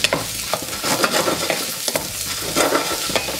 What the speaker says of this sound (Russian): Отправляем жариться вместе с лучком и морковочкой.